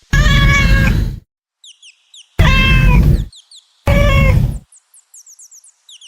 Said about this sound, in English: Look at the cat. Soft and sweet, it says meow so neat.